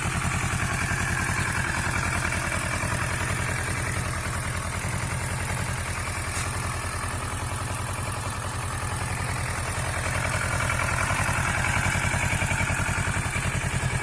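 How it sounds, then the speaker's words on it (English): A Kawasaki Versys 650 motorcycle engine idles steadily, a continuous low rumble with a fast, even chugging pulse, close by and unaccompanied by talk. "So that's the bike idling away."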